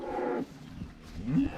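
Cows moo nearby, two low, drawn-out calls separated by a short pause, with faint farmyard background noise.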